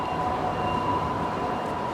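Steady rumble of a train in motion, heard from inside a carriage, with a faint sustained tone above the constant rolling noise.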